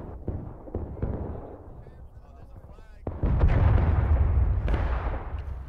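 Musket fire in the Civil War video game War of Rights: scattered distant shots crackle early on, then a loud, dense rolling volley of massed gunfire sets in and continues, with a voice talking over parts of it.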